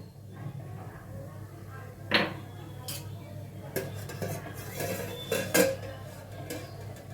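A lid lifted off a pan of steamed amla in a kitchen, giving a few clear metallic clanks and clatters of cookware against a quiet background hum, close by.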